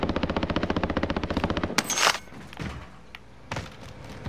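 Rapid automatic gunfire from Call of Duty: Modern Warfare rattles in a steady burst, then stops; a loud blast and scattered thuds and impacts follow, with no talk.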